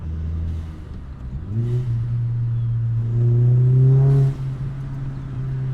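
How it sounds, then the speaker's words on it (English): A Volkswagen Jetta Mk4 engine revs up and down through downshifts, with intake and blow-off sounds and a deep exhaust rumble, the pitch rising and falling through gear changes around 4,000 RPM, close and loud. "Enjoy the sounds of my intake and blow off and that low bellow of the exhaust."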